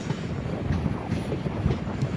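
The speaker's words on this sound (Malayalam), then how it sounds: "ഒരു കാടിനുള്ളിൽ കൂടെ ട്രെയിൻ പോകുമ്പോൾ എങ്ങനെ ഇരിക്കുന്നത്" A train runs steadily through a forest at low speed, giving a continuous low rumble of wheels and carriages with faint rattling and no voices.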